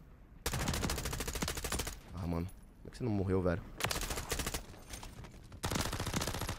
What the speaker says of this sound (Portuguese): eu tô tomando tiro de todos os lados